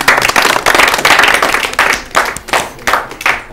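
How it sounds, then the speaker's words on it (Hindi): Audience clapping at an Urdu literary quiz programme after a correct answer, loud bursts of applause in uneven waves that thin out toward the end. "हमारी तरफ से भी आपके लिए ताली"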